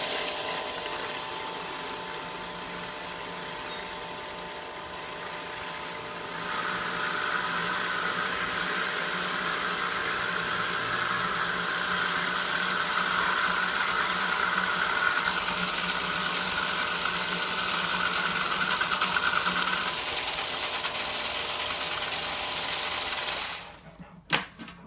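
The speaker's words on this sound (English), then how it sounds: "close the lid, and run the food processor" A food processor blending pesto, its motor whirring as a steady loud drone that shifts in pitch partway as olive oil is added, then cutting off abruptly with a clunk near the end.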